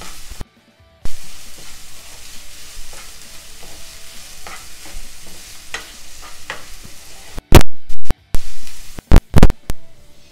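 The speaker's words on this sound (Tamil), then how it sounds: "வெங்காயத்தை நல்லா வதக்கிக்கணும் நல்லா பொன்னிறமாக ஆகிற வரைக்கும் இதை நம்ம நல்லா வதக்கிக்கலாம்" Steady sizzling of onions frying in a pan until golden for pepper chicken, with a spatula scraping and stirring now and then, then several loud clattering knocks near the end.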